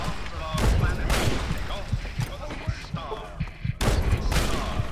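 Grenade explosions and gunfire in Fallout 3, several heavy blasts spaced a second or two apart with rapid shots and thuds between them, fairly close, amid a noisy battle with voices.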